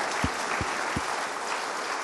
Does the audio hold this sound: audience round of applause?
yes